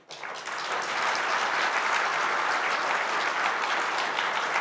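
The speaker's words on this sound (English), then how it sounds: "let us acknowledge the contribution of each and every one of us with a big round" A large crowd breaks into applause at the closing of the 2023 Asian Insurance Meet. The clapping starts abruptly and holds as a dense, even wash of claps from the whole hall.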